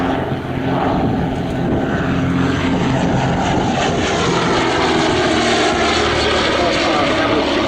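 A de Havilland Dragon Rapide biplane drones overhead on its propeller engines, a steady loud rumble that holds throughout, with faint voices mixed underneath.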